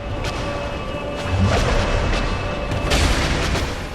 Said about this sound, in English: That explosion, that's the attack that hurts the most out of everything that she does.